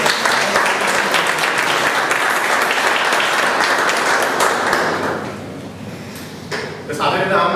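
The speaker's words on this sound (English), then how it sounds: "So big round of applause to members of" Toastmasters club meeting audience gives a sustained round of applause, loud and even for about five seconds, then thinning, with a voice starting to speak at the end.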